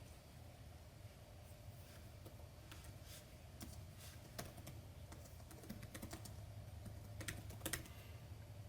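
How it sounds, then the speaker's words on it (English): Typing on a computer keyboard while laying out a pattern on screen: quiet, irregular key clicks in short bursts over a low steady hum, with no voices. "start typing"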